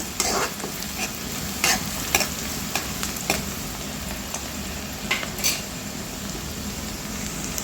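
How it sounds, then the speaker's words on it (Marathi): Onion frying in a pan for Vidarbha-style ukadpendi, a steady hiss with repeated scraping stirs at an irregular rhythm, close and fairly loud, with no voices. "आणि याला छान परतून घ्यायचं आहे छान सोनेरी होतपर्यंत"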